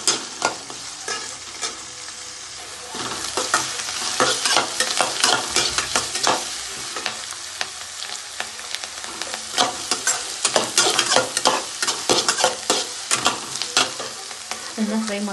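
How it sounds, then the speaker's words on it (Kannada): Green chillies and curry leaves frying in a pan for vegetable rava upma, with a constant sizzle under busy, repeated stirring and scraping that grows more vigorous partway through, and no talking. "ಇದಕ್ಕೆ ಹಸಿಮೆಣಸಿನಕಾಯಿ ಸೇರಿಸ್ಕೊಳ್ಳೋಣ. ಒಂದು ಸ್ವಲ್ಪ ಕರಿಬೇವು ಸೇರಿಸ್ಕೊಳ್ಳೋಣ. ಚೆನ್ನಾಗಿ ಫ್ರೈ ಮಾಡ್ಕೊಳ್ಳೋಣ."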